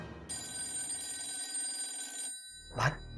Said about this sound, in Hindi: अरे ये फोन कब से बज रहा है, कोई उठाता क्यों नहीं?